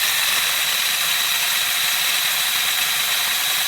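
A loud, continuous high-pitched whine of an electric drill boring through metal for motorcycle mudguard brackets, steady throughout with no pauses or voices.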